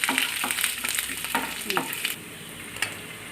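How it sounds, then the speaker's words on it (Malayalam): Curry leaves fry in hot oil while being stirred, a close, steady sizzle with crackling spikes and the scrape of stirring, with no talk. "കുറച്ച് കരിയാപ്പിലയും കൂടെ അതിലിട്ട് കൊടുക്കാം ഇനി അതിൻ്റെ പച്ച മണമൊക്കെ ഒന്ന് മാറുന്നത് വരെ നന്നായിട്ടൊന്ന് ഇളക്കി കൊടുക്കുക"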